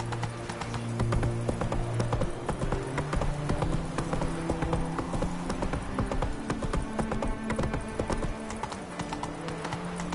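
Hooves of Roach, a horse in The Witcher game, clip-clop steadily and close by on a road, a continuous rhythmic trot over music and ambient game sounds, with no talking.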